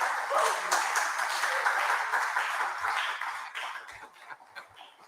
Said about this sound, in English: just a round of applause will be fine